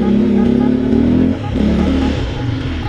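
Italika ATV 150 quad bike engine running steadily and close, with a loud harmonic drone that revs briefly and continues throughout.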